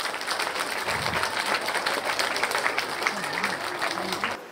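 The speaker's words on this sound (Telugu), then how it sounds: "ఒక్కసారి గట్టిగా చప్పట్లు for this wonderful event today" Audience applause breaks out at a kuchipudi dance event, a steady wash of clapping that lasts the whole time while a distant voice murmurs beneath it.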